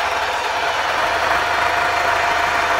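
A YuMZ tractor engine idles steadily nearby, a continuous low rumbling throb with a rough mechanical knock and no other sounds.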